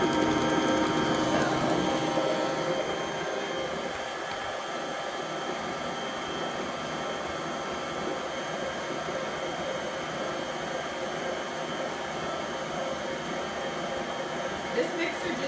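A Bosch Universal stand mixer beats snickerdoodle cookie dough, producing a steady, loud motor whir with a mechanical drone that holds evenly throughout, close up and running without a break.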